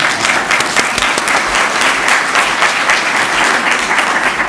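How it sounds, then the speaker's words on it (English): Audience applause at a school board meeting, a dense, sustained round of clapping at close, even loudness that carries on for several seconds without any talk. "Please give Merritt a round of applause."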